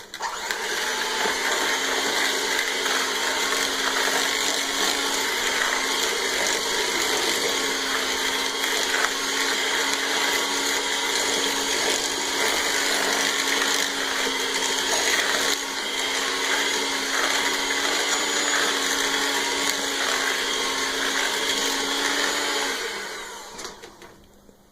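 Electric mixer beating sugar, butter and shortening together, a loud continuous motor whir with steady pitch that runs unbroken for over twenty seconds before winding down at the end; no voices.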